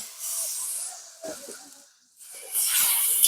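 Water poured into a hot pan of fried greens stalks with salt and turmeric bursts into loud hissing in three surges, the steam hiss fading between pours and flaring up strongly again at the end.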